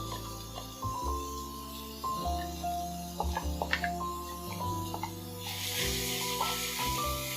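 Ground tomato and onion paste hits hot oil for a Kerala egg roast, setting off a bright hiss that swells near the end over scraping and clattering in the pan.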